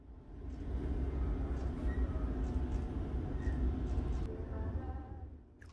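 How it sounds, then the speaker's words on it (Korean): The Donghae sea train slows along the coast, its steady rumbling rail noise rising and then easing off. Faint clicks and squeaks sit over the low, continuous roll. "바다를 지날 때 기차 속도를 줄입니다."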